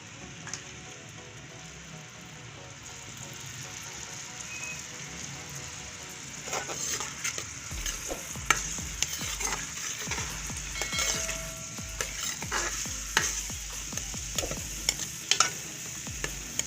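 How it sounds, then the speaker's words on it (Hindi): Onion and ginger-garlic paste fry in a pan for aloo baingan sabzi: a continuous sizzle with scraping stirring strokes that grow busier partway through, close and moderately quiet, with no talking. "अब मैं इसमें डाल रही हूँ प्याज और लहसुन अदरक का पेस्ट।"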